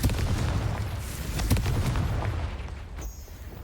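Confringo explosion spell from Hogwarts Legacy: a loud, dense burst of booming, crackling blast noise that fills the clip and fades slightly toward the end, with no talk.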